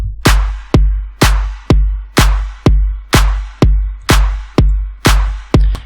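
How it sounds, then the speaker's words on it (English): A 909 clap drum sample with a little reverb repeats in a steady rhythm, about a dozen sharp loud hits, each decaying quickly into a short tail, alone with no other sounds. "So this is a 909 clap"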